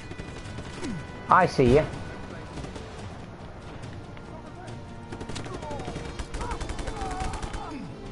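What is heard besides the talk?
gunfire in the video game Just Cause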